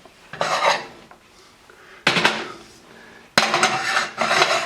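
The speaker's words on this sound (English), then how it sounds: "I'm going to switch this pan out" Metal cookware clatters on a stovetop as one frying pan is swapped for another during chicken parmesan prep, three loud bursts of clanking and scraping separated by brief quiet gaps, close and alone.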